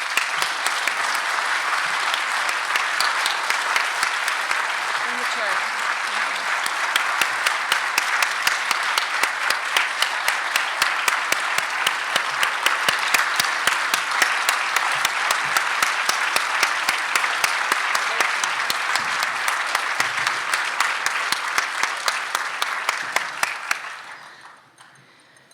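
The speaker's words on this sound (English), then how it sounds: "if we could all give another round of applause to Joanne, please." A large audience at an international leadership conference plenary applauds steadily for about twenty-four seconds, dense and even, before fading out abruptly near the end.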